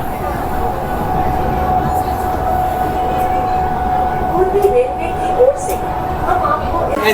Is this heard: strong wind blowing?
no